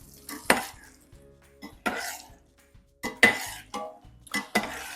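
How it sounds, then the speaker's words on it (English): A utensil stirs beignets (bugnes) frying in oil, giving several sharp clanks and scrapes against the pot in irregular bursts over a faint sizzle, close and fairly quiet. "So you stir them so they colored all around, yeah."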